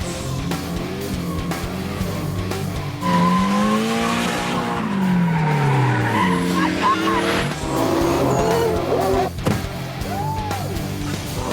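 Vehicles drifting at a speed festival on a race circuit, with long rising and falling tyre squeals over engine roar, loud and near, plus crowd or announcer voices underneath.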